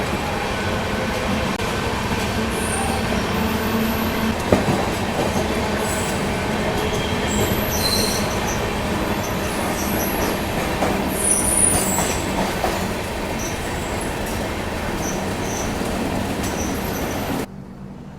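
A Hamsafar Express train runs through Maninagar with a steady, loud rumble of wheels and carriages, thin metallic squeals riding over the continuous roar for the whole stretch before it drops off at the very end.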